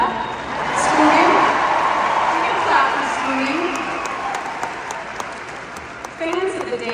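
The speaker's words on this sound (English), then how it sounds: "You can clap for that." An audience at a Rock and Roll Hall of Fame induction claps in a broad, steady wash of applause, with a voice speaking over it at moments.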